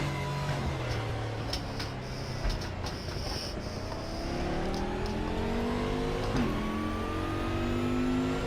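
LMP1 prototype race cars in a multiclass endurance race at Daytona in a racing game, engines revving hard with rising gear-change whines as several cars close in and pass, loud and continuous, no talking.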